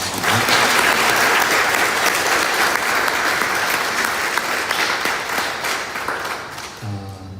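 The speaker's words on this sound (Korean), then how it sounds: "박수 부탁드리겠습니다" Loud, sustained applause from a church congregation at a summer retreat, dense clapping from a large crowd that holds steady before tapering off at the end.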